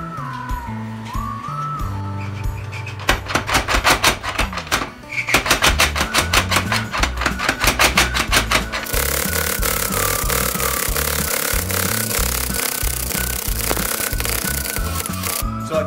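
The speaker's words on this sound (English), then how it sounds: "I took that 1-inch square bar and I tapered it down onto the power hammer." A power hammer tapers a 1-inch square steel bar at a blacksmith's forge, with a burst of rapid, heavy rhythmic blows in the middle, set against a continuous mechanical clatter and hum.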